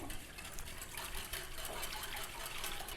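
A cup of water is poured into a bowl of yogurt while making dahi phulki, a continuous splashing gush of liquid lasting a few seconds at close range, with no speech.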